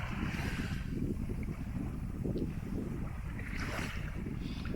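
A motorboat under engine power passes a sailing yacht on a calm Mediterranean sea; its low drone is largely buried under heavy, steady wind rumble.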